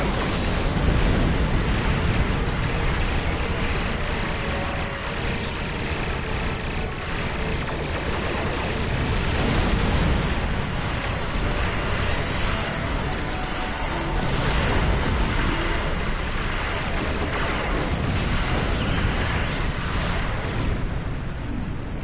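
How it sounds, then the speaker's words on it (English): Dark matter torpedoes exploding in Star Trek Online space combat, a dense, continuous wall of blasts and crackling detonations, loud and unbroken for over twenty seconds. "Gotta love dark matter torpedoes."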